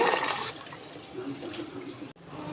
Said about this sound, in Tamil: தண்ணி ஊற்றி ரெண்டு மூணு தடவை நல்லா கழுவிடுங்க